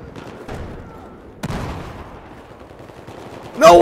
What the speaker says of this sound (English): Shooting at the tank does literally nothing!